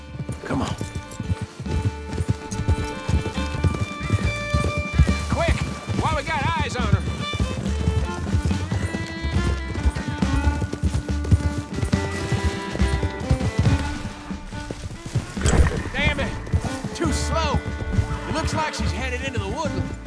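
Horse hooves clip-clop at a gallop in Red Dead Redemption 2, a steady drumming rhythm heard under speech and game music, with a brief whinny.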